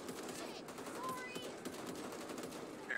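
Rapid gunfire from the Back 4 Blood video game, quiet and distant under steady game ambience, with a voice speaking over it.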